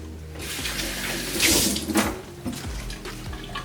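Tap water runs steadily into a sink while cabbage and carrot are washed under it, the stream splashing and shifting as the vegetables are moved through the flow.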